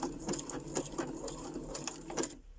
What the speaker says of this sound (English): But this is how I sew comfortably.